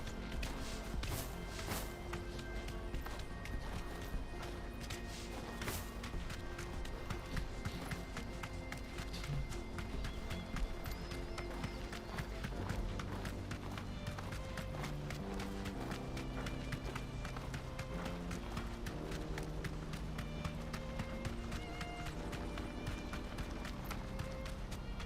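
Horse galloping in Final Fantasy XVI, a rapid steady run of hoofbeats under layered game music and ambience, continuous and moderately quiet throughout.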